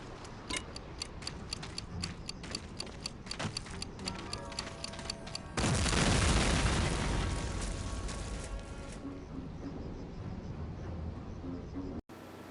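Explosive charges destroy gun emplacements in Medal of Honor: Allied Assault, a loud broad blast around the middle with a long rumbling decay, preceded by a steady ticking countdown.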